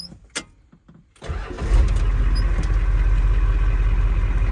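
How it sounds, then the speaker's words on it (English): A 1973 Ford F250 engine cranks and catches after a short pause, then settles into a loud, steady low rumbling idle with its cold advance solenoid removed, close up with no talk. "let's see where the idle is now after I remove that cold advanced solenoid"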